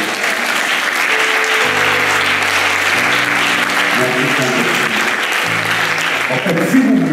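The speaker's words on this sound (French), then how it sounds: "Est-ce qu'on peut acclamer la parole du Seigneur?" A church congregation bursts into loud, sustained applause that fills the room, with sustained musical tones playing underneath and a voice heard briefly.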